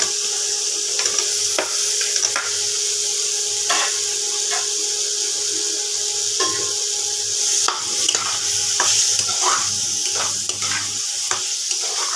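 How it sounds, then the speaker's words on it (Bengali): Pre-fried potato and pointed gourd sizzle steadily in a pan of hot oil, with scattered sharp crackles and scraping stirs over a continuous hiss. "এবার আলু আর পটলটা ছেড়ে দেবো।"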